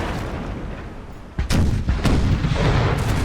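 Naval cannon fire in a Napoleon Total War sea battle, deep booming shots layered over a constant rumble, with a heavy blast about midway and more thuds after it.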